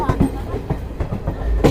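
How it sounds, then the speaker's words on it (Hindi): Bareilly–New Delhi Intercity Express (14315) rolling along the track, a steady low rumble with periodic wheel thumps and clatter close by, brief and continuous throughout. "अब हम अपने ट्रेन की जो फर्स्ट हॉल्ट है उसकी तरफ बढ़ गए हैं।"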